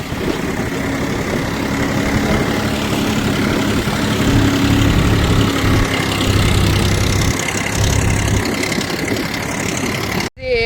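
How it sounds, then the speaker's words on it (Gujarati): A large tractor idles in a village farm field, a loud steady low engine rumble with a constant hum that runs unbroken before cutting off abruptly at the very end. "ટ્રેક્ટર ચલાવી લીધું છે"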